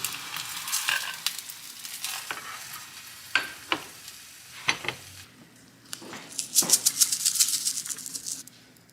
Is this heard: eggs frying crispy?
yes